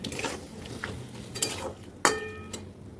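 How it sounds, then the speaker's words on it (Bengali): A ground spice paste being stirred and fried with potatoes in a pan while making veg chana masala: soft sizzling under scraping spatula strokes and a couple of sharp metallic clinks against the pan. "নাড়িয়ে চাড়িয়ে ভালো করে কষিয়ে নেব।"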